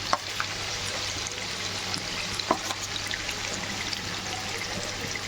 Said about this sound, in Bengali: এই যে চিকেনটা ছাড়ছে দেখুন কড়াইতে।